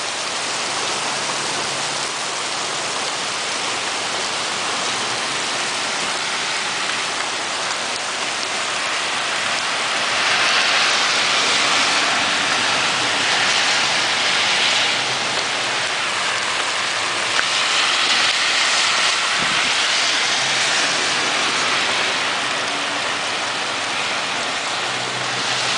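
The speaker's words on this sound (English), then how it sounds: "Yeah, this is what rain is like in Tacoma, Washington." Heavy summer rain with some hail mixed in pours down in Tacoma, Washington, a dense, loud, continuous roar that swells stronger midway with scattered sharper impacts and no talking.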